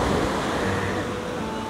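Strong surf roars steadily, a broad wash of crashing waves close by, with no voices.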